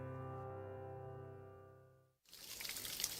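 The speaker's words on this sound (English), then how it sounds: "When this is the sound of a waterfall in nature" Waterfall sound effect in a radio advert: after a sustained musical tone fades to silence, a sudden broad rushing roar of falling water swells in and continues loud to the end.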